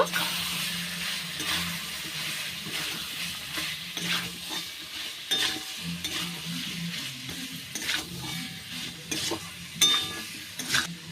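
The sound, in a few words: sautéing fried pumpkin and potato with spices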